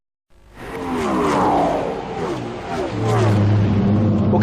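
A saloon race car in the Australian Saloon Car Series roars close by, its engine revving and dropping as it backs off through the gears into a turn, with a commentator talking over it.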